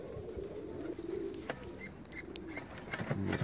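A pigeon coos in low, soft, repeated murmurs close by, over steady background noise.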